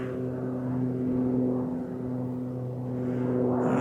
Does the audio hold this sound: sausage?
no